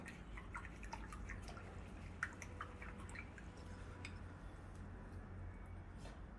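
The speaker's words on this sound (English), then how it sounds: "All right, wash your brush out now." An acrylic paintbrush is rinsed in water, giving soft, faint drips and small splashes at an irregular pace over a low background hum, with no talking.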